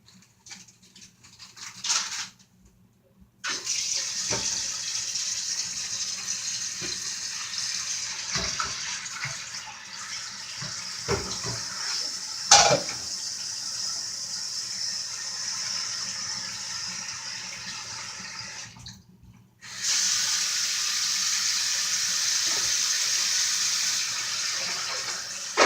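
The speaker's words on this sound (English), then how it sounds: "I'm gonna rinse off my chicken breast again." Tap water runs into a kitchen sink while raw chicken breast is rinsed, a steady hissing stream that stops briefly twice, with pattering and splashing as the meat is handled under it.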